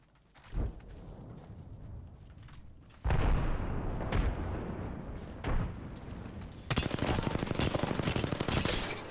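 Gunfire in the video game Apex Legends: a few sharp shots, then sustained bursts of rapid automatic fire with heavy booming reports, ending in a dense, fast-chattering stream of shots.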